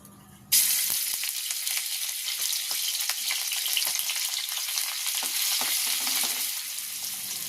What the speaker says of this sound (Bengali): দেখুন আদাটা ভাজা হয়ে গেছে